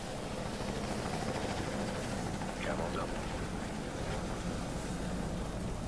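Steady rotor and engine drone of a helicopter in the Ghost Recon: Future Soldier video game, a dense continuous roar mixed with faint game noise and constant player chatter.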